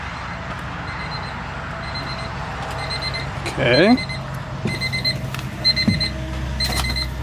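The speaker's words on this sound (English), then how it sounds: "I hear the chime already" Warning chime in an old project car just jump-started, a regular repeating electronic beep pulsing steadily under a low idle-like rumble, with people talking and a rising whistle-like sweep partway through.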